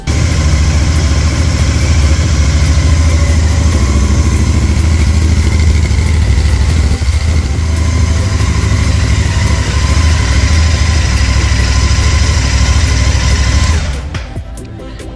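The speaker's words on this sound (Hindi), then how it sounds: "अब आपको मैं बाइक स्टार्ट करके दिखाती हूँ" A motorcycle with a single silencer muffler idles loudly and steadily up close with a constant throbbing rumble after starting, then cuts off near the end.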